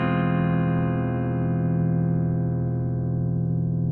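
A guitar's two thin strings ring together with a tuning compensation applied, a loud sustained dyad that decays smoothly over about four seconds, rich in harmonics and heard alone without speech.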